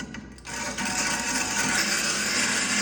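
A dull lawn mower blade being sharpened with an Arnold sharpening and balancing kit, a steady, close abrasive grinding that starts after a short pause and continues evenly to the end.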